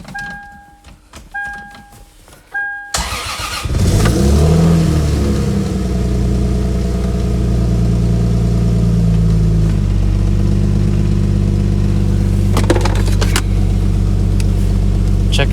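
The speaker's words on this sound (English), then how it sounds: "Exhaust is on. O2s are in. Well, plugged in. Let's start it up" A Lexus IS300 fitted with a new exhaust cranks and fires up, then holds a loud, steady idle that swells into a few short revs near the end, after some quiet clicks and tones before starting.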